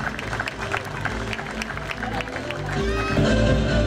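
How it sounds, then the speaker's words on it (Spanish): Audience applause at the San Ramón 2014 awards ceremony in Orán, Salta, a steady crowd clapping with scattered cheers that swells toward the end, with murmuring voices underneath. "El aplauso y el reconocimiento también para los otros ternados"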